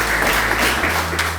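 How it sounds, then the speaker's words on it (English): Wedding guests break into sustained applause, a dense, steady wash of clapping hands that fills the room without pause, with a low hum running underneath. "can we give a round of applause to my best friend, Tyler Everett"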